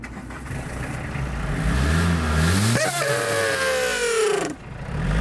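A car engine revs hard and loud nearby, pitch climbing, dipping and surging again before dropping off sharply near the end.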